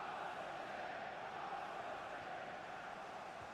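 Steady crowd roar and cheering in an eFootball video game match, a continuous broad wash of noise at moderate level with no breaks.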